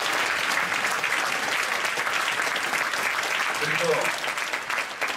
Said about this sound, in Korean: 하여튼 박수 칩시다